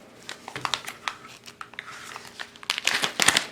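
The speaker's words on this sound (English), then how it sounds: "So after you open the package, and I just cut the top here off, you want to open it up." Close crinkling and rustling of a plastic package of crunchy bean seed mix being opened after its top is cut off, uneven bursts of crackle growing louder toward the end.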